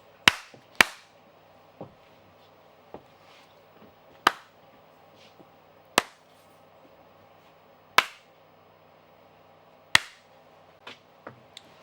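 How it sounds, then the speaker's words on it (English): Sharp single hand claps in a recording studio during a sound check, spaced irregularly one to two seconds apart, each crisp and close with a short room decay, otherwise quiet. "Can you clap your hands?"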